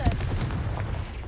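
In the Hogwarts Legacy video game, a Confringo blasting spell bursts with a sharp crack and a rumbling low boom that fades over about a second beneath game ambience.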